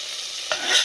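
Mustard seeds, cumin and dried red chilies fry in hot oil with a steady close sizzle and a brief crackling burst partway through, for a sorrel leaf and chickpea curry.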